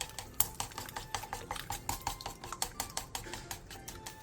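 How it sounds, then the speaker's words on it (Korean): Eggs with minced garlic and salt stir-frying in an oiled pan over medium-low heat: quick, irregular scraping clicks and taps of a utensil against the pan, close but soft, with no talk. "중약불에서 볶아주세요"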